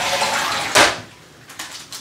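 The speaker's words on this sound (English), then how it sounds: "Now I'm going to flush." A toilet with its water supply shut off is flushed during bathroom prep, giving a short watery rush with a loud gurgling surge, then smaller trickling bursts as the tank drains.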